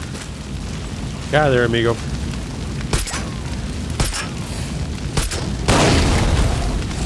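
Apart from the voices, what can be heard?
explosion of gasoline blown up in video game Far Cry 6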